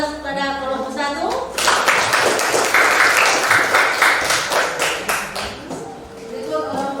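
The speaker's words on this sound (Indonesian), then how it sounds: "Berikan aplaus pada kelompok 1." A classroom group of students applauds a presenting group, a steady wash of clapping that swells and then fades over several seconds, with voices mixed in.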